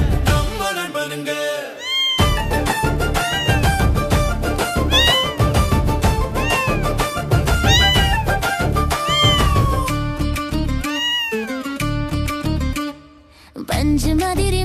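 Kittens meow again and again in high, rising and falling cries, set against lively children's song music with a brief pause near the end.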